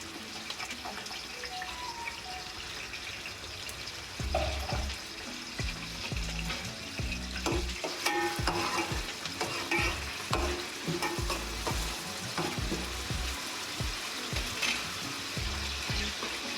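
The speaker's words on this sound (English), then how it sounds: "As that's getting hot, I'm going to add my curry leaves and the green chili." Curry leaves and green chili sizzle and crackle in hot oil for a vegetarian prawn and paneer stir fry, a steady close frying hiss with bursts of spattering and occasional stirring clatter, no talking.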